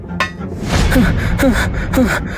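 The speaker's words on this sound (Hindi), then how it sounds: "तभी एक सैनिक हांफता हुआ भीतर आया।" A soldier panting breathlessly in a narrated village story, three or four quick, loud, close gasping breaths in a short rhythmic burst.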